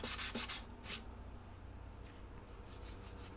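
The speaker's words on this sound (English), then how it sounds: "I'll sand everything smooth with 80 and 120 grit sandpaper." Sandpaper of 80 and 120 grit rubbing the neck of an Epiphone Model 3 guitar smooth: a few quick scratchy strokes at the start, then faint, softer rubbing.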